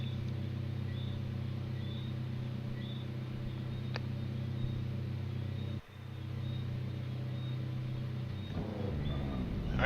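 Race car engines drone in a sim-racing championship round at Wallerfield Raceway, a steady layered mechanical hum with a brief dip midway and a rising engine note near the end.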